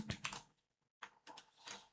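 Rapid typing on a computer keyboard, two quick bursts of clattering keystrokes separated by a brief pause, close and fairly quiet.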